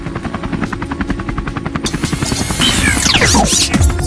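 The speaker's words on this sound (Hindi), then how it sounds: "रिमोट से हेलीकॉप्टर को स्टार्ट करता है" A remote control helicopter's rotor throbs steadily, then the whine rises and sweeps downward as the motor spools, loud and close throughout.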